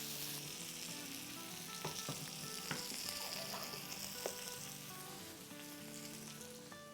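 Seekh kebabs sizzle steadily in a hot pan, a constant frying hiss with occasional pops and spatters, close and continuous with no talk.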